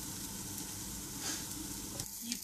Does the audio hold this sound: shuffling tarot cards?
no